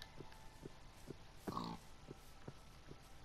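A Minecraft pig oinks in short grunts, several evenly spaced snorts at low volume, with one brief louder game noise in the middle and faint background hum.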